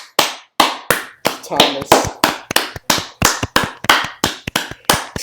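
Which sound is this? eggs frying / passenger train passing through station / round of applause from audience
round of applause from audience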